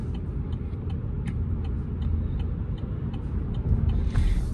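A 2020 Chevrolet Bolt EV electric car cruising, heard from inside the cabin as a steady low road rumble with faint, regular ticking on top. No one speaks.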